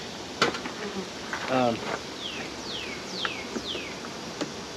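Steady buzzing of bees around a hive, with several insects zipping past up close, some sharp passes standing out over the low drone.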